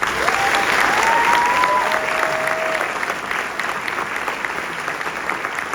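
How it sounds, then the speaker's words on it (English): Sustained audience applause for Disneyland Resort ambassadors at their ceremony, broad and steady with a few faint whistles early on, easing slightly later. "Let's give them a round of applause"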